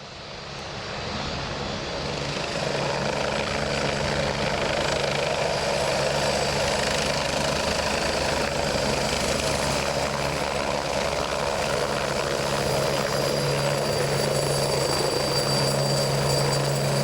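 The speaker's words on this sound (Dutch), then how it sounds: "Hier ziet u de A109 van de luchtmacht aankomen" An air force Agusta A109 helicopter arrives at an airshow, its rotor and turbine roar rising within the first seconds and then holding loud and steady without talk.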